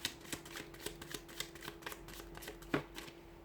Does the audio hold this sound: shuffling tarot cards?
yes